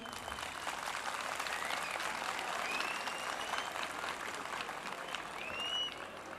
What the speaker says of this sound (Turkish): Arkadaşlar daha beli olarak kalsın diyenlerden bir alkış istiyorum.